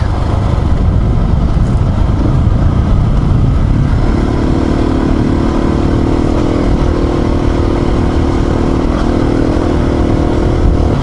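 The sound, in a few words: motorcycle riding on a graded dirt track through forest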